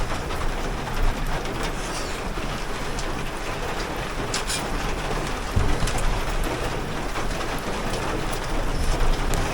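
Heavy rain pours outside an armored vehicle with its door open, a dense continuous patter and roar of drops drumming on surfaces, steady and loud with occasional heavier splashes.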